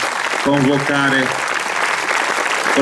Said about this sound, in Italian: vorrei che gli si dedicasse un applauso immenso